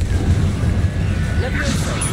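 A Confringo blasting spell cast in Hogwarts Legacy lands as a dense, rumbling burst of crackling noise, fairly loud and sustained across the moment, with a brief brighter flare near the end.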